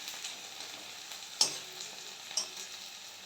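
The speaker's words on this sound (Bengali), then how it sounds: "পেঁয়াজ আর কাঁচা লঙ্কাটা আমি একসাথে ভেজে নিচ্ছি।" Onion and green chili fry in a pan with a soft, steady sizzle close by, broken by two brief louder clicks of stirring against the pan; no talking.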